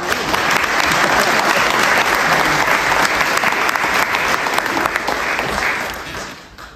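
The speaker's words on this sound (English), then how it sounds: "Let's give them a round of applause first," Sustained audience applause greeting panelists at an International Women's Day 2024 event, dense and steady throughout before tapering off near the end.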